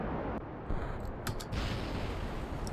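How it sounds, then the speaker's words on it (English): Spacecraft explosions in the video game Kerbal Space Program, a dense roaring rumble with a couple of sharp blasts cutting through, loud and continuous over a few seconds. "Oh, explosions!"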